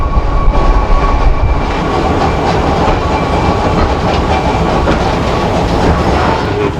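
A museum trolley car rolls slowly along rails into a siding at a Connecticut trolley museum, making a loud, steady rumble with rhythmic clickety-clack of wheels over track joints, close up and continuous, with no talking.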